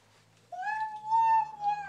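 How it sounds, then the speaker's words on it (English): A cat meows once in a long, rising then steady tonal call, close and fairly loud, following a brief quiet moment indoors at a toddler's birthday gathering. "Is that what the kitty says?"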